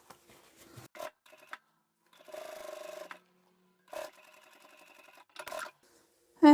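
A sewing machine restitches the fabric edge of a lined drawstring backpack pocket in short separate runs, each a second or so long, with quiet pauses and a few soft handling clicks between them.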